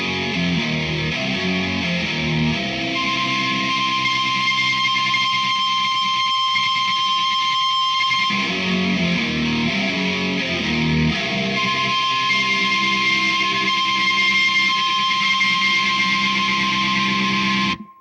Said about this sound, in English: we're going to do a little behind the nut strumming